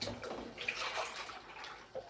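Water splashes and pours steadily into a pot of Ghanaian Tom Brown porridge mix, a close, bubbling wash of sound with a brief drip near the end.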